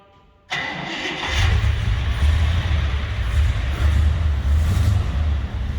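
After a brief quiet moment, the 392 dual-quad Hemi V8 of a 1958 Plymouth Belvedere fires up and rumbles into a loud, deep, steady idle close by.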